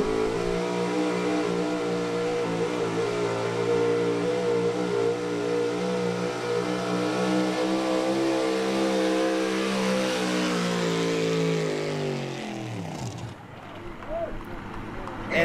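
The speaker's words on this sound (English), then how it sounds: "Just cruising down the track, had a really consistent RPM going down the track." A modified pickup truck engine roars at a steady high pitch down a fair pull track and slowly drops in pitch, then cuts out to quieter background noise near the end.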